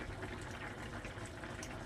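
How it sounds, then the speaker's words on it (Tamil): Quiet bubbling and simmering of liquid in a pot, a soft continuous burbling heard up close with no talking. "ஒரு பத்து நிமிஷம் நல்லா கொதிக்கும் கொதிக்கட்டும்"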